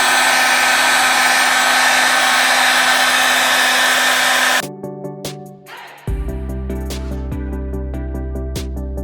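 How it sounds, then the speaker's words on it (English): A heat gun set to 300 blows a loud steady roar with a high whine at close range, then switches off; the motor winds down and a lower electrical hum starts and continues. "And I'm turning on my heat gun."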